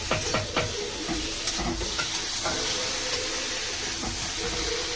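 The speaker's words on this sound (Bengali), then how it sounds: "টমেটো কুচিটা দিয়ে দিচ্ছি।" Chopped tomato tossed into hot oil in a pan for a prawn curry, a loud sizzle and hiss with a few stirring scrapes near the start, then steady frying.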